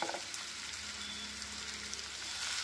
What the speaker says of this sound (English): Keep the flame on medium and let it sweat